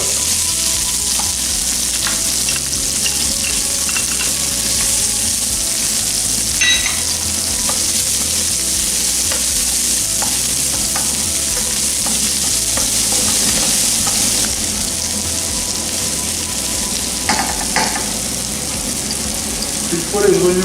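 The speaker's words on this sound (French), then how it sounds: "Rim a mis une poêle à chauffer avec de l'huile de tournesol. Elle y ajoute ses oignons qu'elle va faire tuer." Onions and shallot frying in sunflower oil in a hot pan, giving a steady, loud, continuous sizzle with occasional scraping and stirring throughout.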